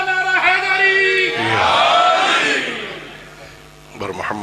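A large crowd at a religious majlis gathering loudly shouts the Naara-e-Haidari slogan in a swelling, sustained roar of voices right after a single man's call.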